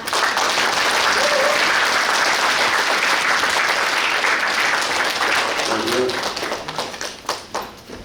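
A crowd at a civic policy talk show in Suncheon gives loud, sustained applause to welcome the mayor, dense clapping that thins into scattered claps toward the end, with faint voices mixed in.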